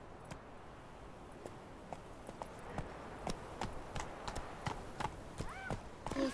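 Hooves of Roach, Geralt's horse in The Witcher 3, clip-clopping at a steady trot, sharp regular hoof strikes that grow louder and quicker toward the end over quiet ambient background.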